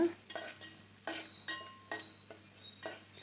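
Ginger, garlic and green chili paste frying with finely chopped onion in a pan, a steady sizzle broken by repeated sharp scrapes of a spoon stirring, close and fairly loud with no voices.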